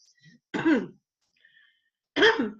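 Two short, rough throat-clearing coughs separated by a pause, close and fairly loud, with a faint breath between them.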